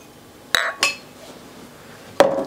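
Glass beer mugs clink against one another in three sharp, bright strikes: two close together near the start, then a single louder clink after a pause, with no talk.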